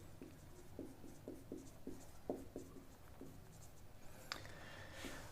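A pen writing on paper as a sample space is worked out, a quick run of short scratchy strokes, close but faint over a steady background hiss, without talk.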